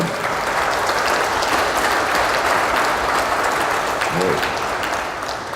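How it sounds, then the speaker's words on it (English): A crowd applauds steadily and loudly for newly sworn-in state commissioners at a government swearing-in ceremony, dense sustained clapping filling the room throughout with no pause, a faint voice briefly surfacing near the end. "I think a round of applause for all of them"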